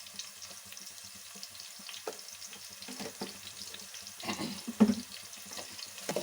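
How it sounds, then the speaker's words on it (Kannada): Onions salted and frying in a pan for street-style fried rice, a soft steady sizzle broken by scraping stirs and a few louder clanks of a spatula. "ಈರುಳ್ಳಿ ಕೂಡ ಹಾಗೇನೆ ಸ್ವಲ್ಪ ಫ್ರೈ ಆಗಲಿ"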